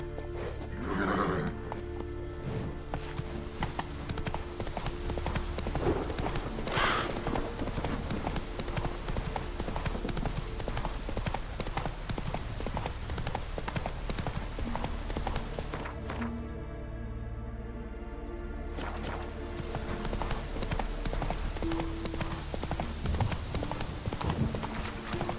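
A horse gallops in The Witcher 3 with a constant rapid drumming of hooves and a neigh, set against game music and ambience, with a brief lull midway.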